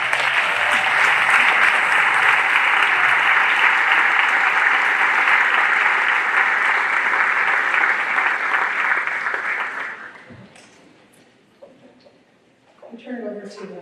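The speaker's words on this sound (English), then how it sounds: "Please stand for a round of applause." A school concert audience claps in steady, dense applause for about ten seconds. It fades out, then a few voices and scattered sounds follow near the end.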